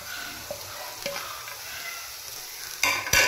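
Thoran with crushed coconut and cumin being stirred in a pan, a low continuous sizzle with light scrapes and a couple of louder metallic clatters near the end.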